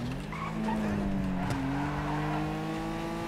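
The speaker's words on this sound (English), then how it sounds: "I can really feel that hybrid engine" A hybrid car in GTA Online squeals its tires in a long sustained screech over a steady engine drone, loud and close, with a voice talking.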